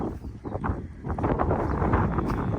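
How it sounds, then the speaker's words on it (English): Wind buffets a microphone outdoors on a farm with a tractor, giving steady broadband rumble and rustle with gusty swells throughout, loud and close, with no talking. "I'm gonna squat down here so you guys don't have to deal with the wind"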